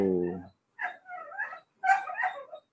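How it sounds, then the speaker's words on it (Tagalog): A dog nearby gives a few short barks and whimpering yelps in separate bursts, fairly loud and close, with a brief voice at the start. "Pasensya na, napakaingay ng aso naman dito"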